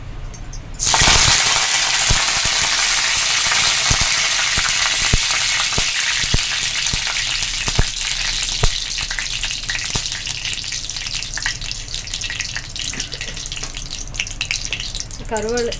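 Curry leaves with cinnamon, clove and bay leaf hit hot oil for an egg curry, bursting into a loud, steady sizzle after a second of quiet, with scattered sharp crackles and taps over the frying hiss.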